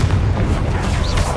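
A Confringo spell blast in the video game Hogwarts Legacy: a loud, dense booming burst that fills the short moment with rumbling impact and crackle.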